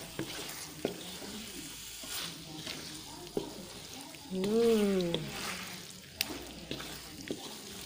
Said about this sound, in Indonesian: Dan kita aduk-aduk sampai rata dan bumbunya meresap di daging.